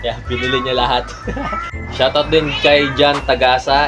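Cats meow outdoors at night, hungry and not yet fed, their calls rising behind steady close talk and a laugh from the person speaking.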